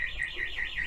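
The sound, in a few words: alarm tripped by someone walking downstairs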